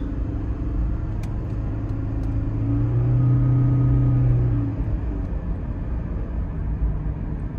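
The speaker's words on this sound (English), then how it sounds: "I kind of gave it a little extra gas just to see how it was." A 2012 Toyota Prius hybrid pulls up a hill under extra throttle, a steady low drone and road rumble swelling in the middle of the stretch, heard from inside the car with no talking.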